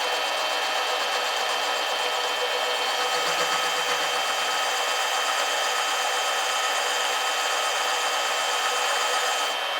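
A balancing machine grinds about a gram of material from a 13B turbo rotary engine rotor, a steady, close, loud rasping whir that runs without a break for the whole stretch, with no voices.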